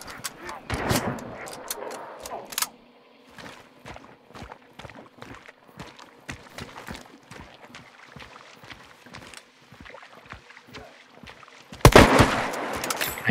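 Gunfire in the video game Huntage 3: a burst of shots at the start, then a long run of evenly spaced sharp reports, and a loud blast near the end, with voices talking throughout.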